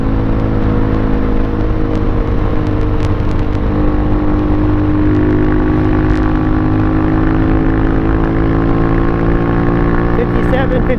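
A Pitster Pro XTR250 dirt bike, a small Chinese-made machine on knobby tires, drones continuously as its engine strains and slowly rises in pitch climbing a hill, loud and steady with wind noise over the recording.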